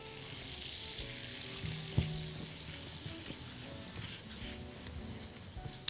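Butter melting and sizzling in a wok, a continuous close frying hiss with a few faint clicks of stirring, no talk.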